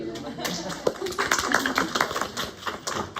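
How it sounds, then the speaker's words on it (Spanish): A small group of students claps in a lecture hall, a brief burst of close, sharp handclaps with voices mixed in. "Aplausos, chicos."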